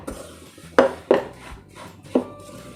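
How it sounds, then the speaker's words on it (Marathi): A spatula stirs a thick jaggery mixture in a pan for fasting-style rajgira ladoos. It knocks and scrapes the metal three times, sharp and close, over a quiet background. "गुळ हा आपला व्यवस्थित मिक्स करून घ्यायचा आहे"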